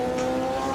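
A Brabham BT52 race car engine in the sim racing game Automobilista 2 screams at high revs near 11,000 RPM, a loud, steady, tonal whine held throughout with no talk.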